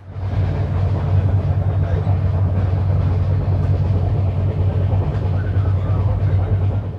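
The Kanniyakumari–Chennai Egmore Superfast Express rumbles along in a steady, loud low drone heard from inside the moving train, with no voices over it.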